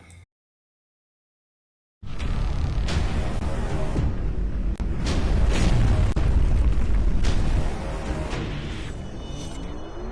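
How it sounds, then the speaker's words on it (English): Ship explosions in the EVE Online space game: a sudden loud blast after two seconds of silence, then a sustained roaring, crackling barrage of booms and bursts that keeps rumbling close and heavy to the end. "that's an explosion, and I love explosions too"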